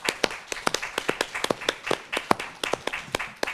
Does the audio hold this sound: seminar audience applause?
yes